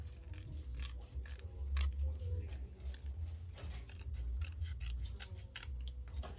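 Scissors snip through paper for a Halloween shadowbox craft in a run of quick, close, crisp cuts over a low background rumble, with faint rustling of paper.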